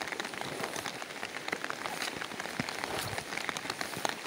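Heavy rain pours steadily on a flooded rural smallholding, a dense continuous hiss of drops striking surfaces close by, with no voices over it.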